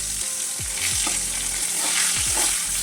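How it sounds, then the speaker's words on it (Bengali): Cut brinjal pieces fry in very hot mustard oil in a kadai, giving a loud, continuous sizzle with several low bubbling thumps as the oil spits, and no voices. "তেলটা যখন খুব ভালো করে গরম হয়ে গেল, তখন কেটে রাখা বেগুনগুলো ছেড়ে দিলাম"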